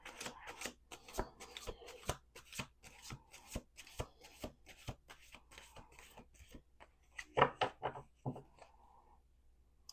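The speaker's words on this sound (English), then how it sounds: "We're going to do 2 more shuffles." A deck of tarot cards is shuffled by hand on a table by a windowsill, giving a rapid run of crisp riffling snaps and soft slides, quiet and close, followed by a few shuffling rustles.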